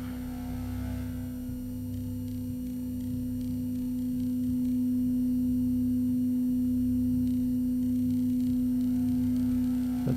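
A 250 Hz sine wave tone, generated in the game Stories Untold, hums as a steady pure note at constant pitch and grows slightly louder partway through, over faint low background noise.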